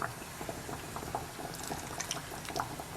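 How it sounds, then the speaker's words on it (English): Dill pickle brine ladled into a jar, with soft splashing, trickling and small liquid pops in quick, irregular succession, close and fairly quiet. "I'm going to go ahead and fill up the jar here"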